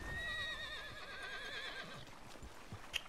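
Horse neighing in the video game Red Dead Redemption 2, one long wavering whinny with hoof clip-clop underneath, close and clear, followed by a short sharp knock near the end.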